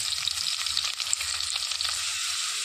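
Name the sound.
chopped onions frying with cumin, red chillies, curry leaves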